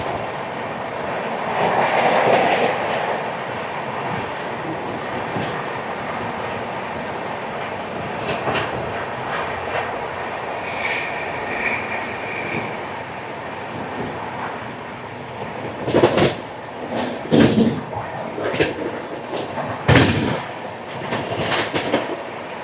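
A train runs past Annavaram railway station without stopping, a steady rumbling roll punctuated late by several loud, sharp clacks of wheels over rail joints, heard close with no talking.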